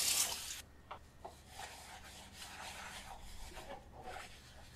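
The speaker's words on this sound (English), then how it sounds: "How about wash the dishes?" Water runs as dishes are washed in a video game, a soft sink splash with rubbing and scrubbing noises, brief irregular bursts over a quiet background after a louder opening burst.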